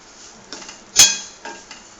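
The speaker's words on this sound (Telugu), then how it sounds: "నేతిలో ఫ్రై చేసుకోవాలన్నమాట ఫ్రెండ్స్." Metal utensil clinks and scrapes against a pan while vermicelli fries in ghee, with one sharp loud clank at the centre and softer taps around it, over a faint background hiss.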